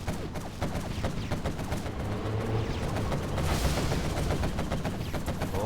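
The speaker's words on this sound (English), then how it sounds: "Oh, this Chinook will go down against a quad cannon." Rapid anti-air quad cannon fire rattles against Chinook helicopters in a C&C Generals Zero Hour match, a dense continuous stream of gunfire bursts at steady loudness with battle noise underneath and no voice.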